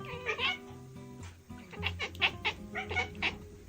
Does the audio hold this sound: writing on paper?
no